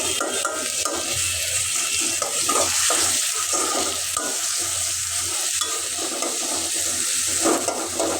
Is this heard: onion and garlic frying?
yes